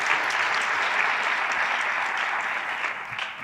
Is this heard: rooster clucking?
no